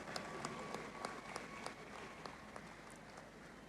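An audience at a school graduation and achievers ceremony applauds the board chair. The clapping is steady but faint and distant, with a few sharper claps standing out.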